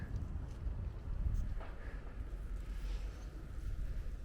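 Strong wind buffets the microphone beside the Oder River in a continuous low rumble, with faint gusting noise and no voices.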